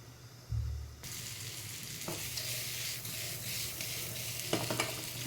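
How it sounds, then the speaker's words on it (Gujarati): Paneer cubes stirred and roasted in a pan for palak paneer, a steady soft sizzle with occasional scraping strokes of the spoon, close and moderate in level. "ઉલટતા પુલટતા એને શેકી લેવાનું"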